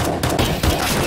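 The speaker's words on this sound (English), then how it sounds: "hear gunshots" Rapid bursts of gunfire crackle loudly and continuously in a firefight in CS:GO on the Agency hostage rescue map.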